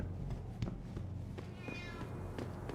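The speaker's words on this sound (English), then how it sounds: "And I heard a cat." A cat meows faintly in the background ambience of the Deus Ex: Human Revolution video game, a few short mews barely rising above a steady low hum with no talking.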